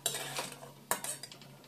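A metal strainer clinks and scrapes against a pan as fried semolina sweets are lifted from hot oil, giving a few sharp, quiet metallic knocks over a faint background hum.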